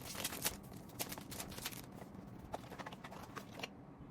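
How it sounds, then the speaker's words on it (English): Large scissors snip through perfume packaging, giving a series of quick crisp cuts and crackling rustles close up, irregular over a few seconds, with no voices. "I'm just going to snip this open."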